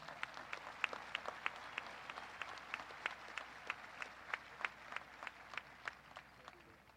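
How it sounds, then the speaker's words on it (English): Graduation ceremony audience applauding student speakers in a large hall, steady claps from a sizable crowd, heard from some distance and fairly faint, with a few sharper individual claps standing out. "Let's give those students a round of applause."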